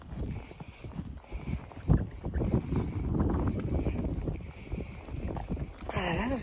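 Strong wind gusts buffet the microphone outdoors at a horse paddock, a steady rushing roar with louder surges throughout, and a person's voice briefly audible under it.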